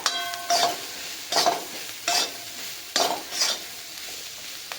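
Corn kernels roast in a hot pan with chili powder while a utensil stirs and scrapes them. Five or six rhythmic scraping strokes cut through a continuous soft sizzle.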